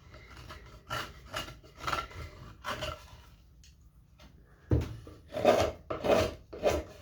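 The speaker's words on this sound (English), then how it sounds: "I love that sound of that knife. Just slicing through that wood." A knife whittles a wooden gnome in an old wood shop, making short rasping shaving strokes in uneven bursts, close and clear, with a pause partway through.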